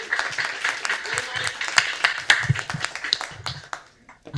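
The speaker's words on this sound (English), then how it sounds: "An applause, please." An audience at a startup pitch event in Porto gives scattered, uneven clapping with sharp hand claps, mixed with murmuring voices in the room.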